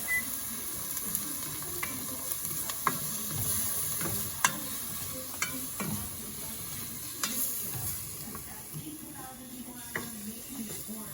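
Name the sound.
sauteing onions and garlic in a pan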